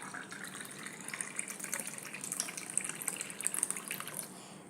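Freshly made orange juice with dissolved sugar is poured into a cup, a faint trickling and splashing stream that grows a little busier toward the end.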